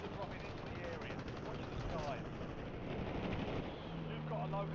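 Rapid automatic gunfire from a video game rattles continuously at a steady, loud level, with bursts layered over a dense background and no pauses throughout.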